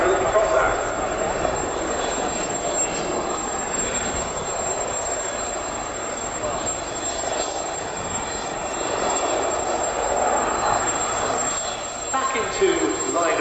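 Two Leonardo Wildcat HMA2 Royal Navy helicopters fly a display at the Royal International Air Tattoo, making a steady, broad engine and rotor roar. The roar is loud and continuous, with a live commentator talking over it.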